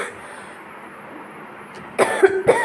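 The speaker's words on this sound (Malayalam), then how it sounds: "ചുമ വരുന്നുണ്ട്" A person gives two short, sharp coughs close to the microphone near the end, after a couple of seconds of quiet room tone.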